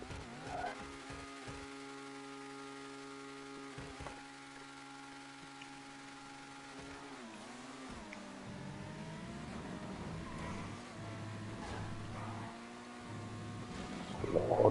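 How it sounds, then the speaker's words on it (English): A race car engine in a GTA Online stunt race revs and whines steadily, its pitch rising and falling with gear changes and cornering, with faint tire squeal, loud and continuous with no talk. "The engine note."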